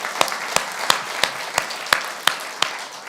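A church congregation claps in a steady rhythm, with sharp unison claps at regular intervals over a continuous bed of scattered clapping. The sound is close and even, with no speech.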